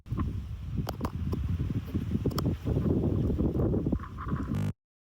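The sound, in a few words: wind blowing on a TikTok Shop microphone outdoors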